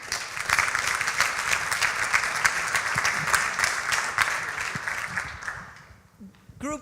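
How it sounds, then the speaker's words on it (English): Audience applause at a forum for a group finishing its session, a dense, sustained round of clapping that fades out near the end, followed by a brief voice. "let's have a round of applause, and thank you for your hard work"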